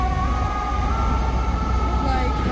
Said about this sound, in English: The horn and the siren.